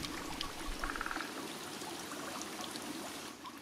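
Water trickles steadily from a spring source outdoors, a soft continuous flow with a brief brighter pouring splash near the start.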